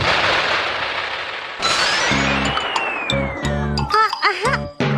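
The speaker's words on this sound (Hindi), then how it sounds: "मैंने कहा था ना कि सुंदर आतिशबाजी दिखाई देगी।" Bursts of cartoon fireworks: a rising whistle followed by crackling pops and booms, with a rhythmic musical backing and noisy rushing bursts.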